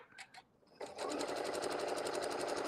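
A sewing machine stitching quilting using ruler templates, a couple of brief taps, then the motor spins up into a fast, even, close run of needle strokes.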